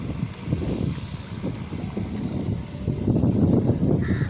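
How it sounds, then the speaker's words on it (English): A low, steady engine rumble chugs along continuously, with a rougher throb building toward the end, from a grounded fishing boat's diesel motor idling nearby in India. "the boat motor has just started on the fishing boat again"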